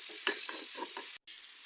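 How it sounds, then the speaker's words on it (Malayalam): Chopped large onion sautéing in a pan for a chickpea curry, giving a steady bright sizzle with a few soft stirring scrapes, then a short dropout before the frying resumes more quietly. "പിന്നെ അതിലേക്ക് ഒരു വലിയ ഉള്ളി ചെറിയ കഷ്ണങ്ങളാക്കി ഇടുന്നുണ്ട് കേട്ടോ. അതൊന്ന് നന്നായിട്ട് വഴറ്റിയെടുക്കുക."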